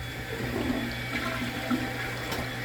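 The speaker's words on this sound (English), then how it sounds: "At this point, flush." A toilet flushes during bathroom cleaning, a steady rushing swirl of water heard nearby at moderate volume throughout, with no voices.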